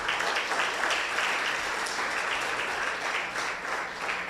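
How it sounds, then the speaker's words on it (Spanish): A church congregation applauds loudly and steadily throughout, a dense, continuous wash of many hands clapping with no pauses. "Dele un fuerte aplauso a Él"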